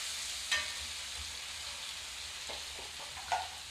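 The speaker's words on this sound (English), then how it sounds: "Next I'll add in the herbs directly to the oil." Herbs sizzle in a pan of oil and butter, a steady, dense frying hiss with a couple of brief stirring clicks, close and alone without any voices.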